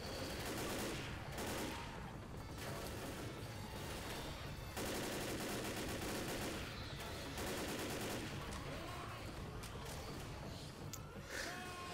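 Heavy gunfire and zombie attacks in Left 4 Dead, with dense, nearly continuous automatic shooting and chaotic impacts throughout, fairly quiet overall.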